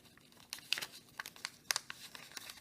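Crisp crinkling and rustling of paper being folded into a pocket, a series of small sharp rustles and creases close to the listener, faint and without talk.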